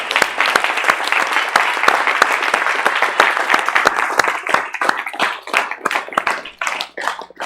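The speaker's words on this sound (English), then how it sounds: "Give Mr. Yahuwah a hand clap" A church congregation applauds with dense, sustained clapping that gradually thins into scattered individual claps toward the end.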